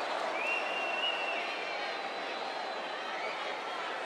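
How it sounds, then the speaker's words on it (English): Arena crowd noise in a WWE 2K18 wrestling match on PS4, a broad steady roar of cheering and applause with a whistle rising above it early on, holding at an even level throughout. "Would you listen to this crowd?"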